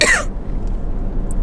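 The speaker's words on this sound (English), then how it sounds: "Hold on, let me cough." A single short, sharp cough at the very start, then near silence with faint room noise.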